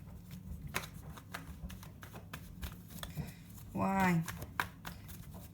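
Tarot cards are shuffled and drawn, giving a run of quick, crisp papery clicks and riffles close to the listener, with a person briefly speaking partway through.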